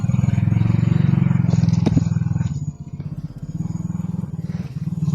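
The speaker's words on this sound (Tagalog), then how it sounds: "may naririnig akong ano ng motor. Pero malayo naman." A distant motorcycle engine hums outdoors as a steady low drone that dips briefly midway, then settles back into its even rumble.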